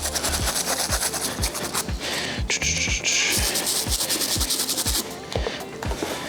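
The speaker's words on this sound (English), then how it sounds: "Taking the detailed wire tip bristle brush, scrubbing that in some of these areas." A detailed wire-tip bristle brush scrubs Jordan sneakers in loud, close, rhythmic back-and-forth strokes, roughly three per second, with a sharp scraping texture throughout.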